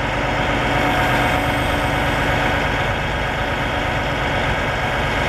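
A Fassi rear-mount 600 crane engine runs steadily throughout, a loud, even mechanical drone with a constant idling throb and vibration, heard alone with no voices.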